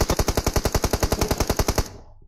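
Shotgun fire in the mobile battle-royale game PUBG Mobile: a rapid, evenly spaced string of about twenty sharp, loud shots in under two seconds, then abrupt silence.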